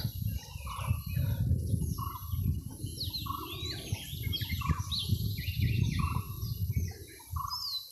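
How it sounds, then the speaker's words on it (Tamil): Many small birds chirp and tweet busily in a dense hillside forest, high calls overlapping throughout, over a low rumbling background. "குருவிகளோட சத்தமும் பூச்சிகளோட சவுண்டு மட்டும்தான் கேட்குது"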